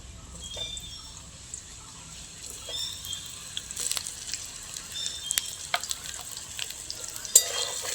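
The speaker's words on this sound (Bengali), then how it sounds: "বেগুনটা ভেজে নেব" Brinjal slices frying in hot oil make a continuous sizzle that grows busier over time, with scattered pops and crackles and a few spatula scrapes.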